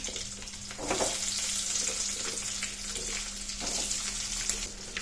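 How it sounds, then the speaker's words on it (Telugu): Garlic and onion fry in a pan of tempering oil with lentils, giving a steady, close sizzle with occasional soft stirring swells and a faint low hum beneath. "ఇప్పుడు తెల్లగడ్డ ఆనియన్ వేసి ఫ్రై చేసుకున్నాం"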